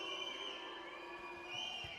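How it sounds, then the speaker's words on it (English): Crowd at a THY Istanbul home volleyball match against Dinamo Moscow in the CEV Champions League, a steady roar of cheering and shouting held at an even level with a slight swell near the end. "You can hear the crowd of Istanbul"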